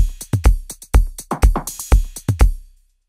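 KORG Drumlogue hybrid drum machine playing a factory pattern: punchy kick drums with snappy snare and bright hi-hat hits in a quick, busy groove, loud and dry, ending with a short decay into silence.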